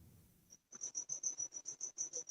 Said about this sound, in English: I guess the crickets are back out.